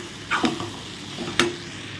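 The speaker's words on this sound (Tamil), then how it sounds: "கிளறி நல்லா கிளறி விடுங்க" Tomato and brinjal chutney fries in a pan under a steady sizzle, with a couple of short scraping clicks as a spoon stirs it.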